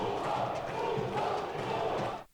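Spectators in the stands at the Martins Pereira football stadium voice a low, sustained murmur of displeasure at a substitution. The sound is distant and steady, then cuts off abruptly near the end.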